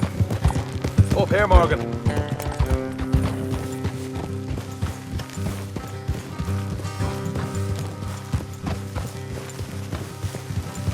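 Horses' hooves clip-clopping at a steady trot in Red Dead Redemption 2, with several riders moving together, a whinny near the start and game music, while a character speaks over the hoofbeats.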